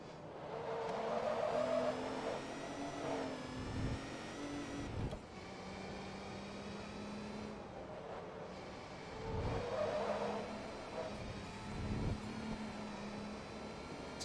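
Engine note of a car in Forza Motorsport 2 sliding through a corner, a steady tonal drone with rising and falling pitch and tyre hiss, swelling louder in two bursts with no voices.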